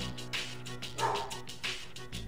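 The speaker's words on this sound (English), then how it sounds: "my dog just barked" A pet dog barking indoors, a couple of short, fairly faint barks heard over a background of game music and sound.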